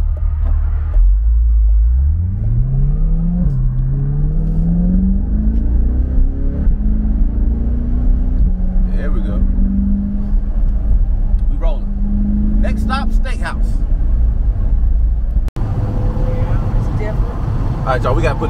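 A 2022 C8 Corvette convertible drives with the top down, its engine rumbling loudly and rising in pitch as it accelerates, with wind noise throughout and people talking over it.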